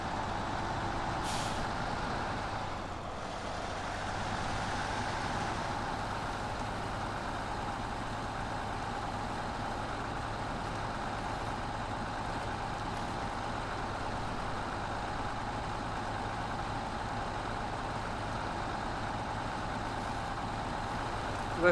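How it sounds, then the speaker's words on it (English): Log truck driving on a slippery rural road, its engine a steady low drone throughout with a short air-brake hiss near the start; no voices. "This truck makes a great log truck."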